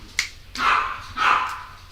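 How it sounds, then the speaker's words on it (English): An excited dog lets out two loud, drawn-out barks close by, with a sharp click just before the first. "dog's going nuts"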